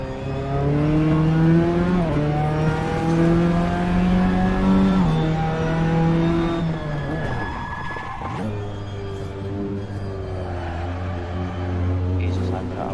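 A BMW race car in Assetto Corsa revs hard, its engine climbing and falling through gears in a loud, close, continuous roar, with people talking over it.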